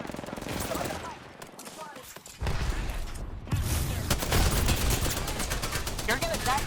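Bursts of rapid video game gunfire in a shootout, overlapping automatic fire swelling louder in the second half, with heavy close shots and mechanical clatter throughout.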